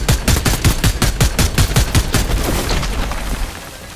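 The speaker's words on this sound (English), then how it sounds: "Keep shooting him." Rapid bursts of gunfire from the video game Fortnite, a loud, evenly spaced string of about a dozen sharp shots over roughly two and a half seconds, then tapering into fainter pops.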